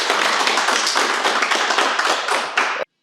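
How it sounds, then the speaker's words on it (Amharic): An audience at a business group's project handover ceremony claps steadily, a dense, close patter of many hands that holds evenly before cutting off abruptly near the end. "እባካችሁ ሞቅ ያለ ጭብጨባ"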